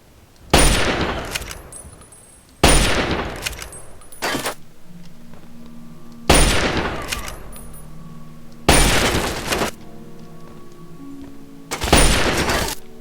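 Gunshots in Fallout 3, fired at a rat: five loud, sharp reports spaced a few seconds apart, each with a ringing tail and faint mechanical clatter between, no talking.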